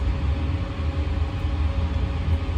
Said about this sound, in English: you can hear a low rumble. That's actually the incinerator, which is super quiet.